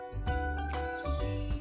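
A bright bell-ding sound effect ringing out in a few clear tinkling chimes, with a sparkling shimmer and short gaps between strikes, near and prominent.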